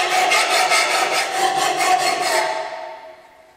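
A hand file rasps against a lawn mower blade in steady back-and-forth strokes, a dense grinding scrape that slows and fades out at the end.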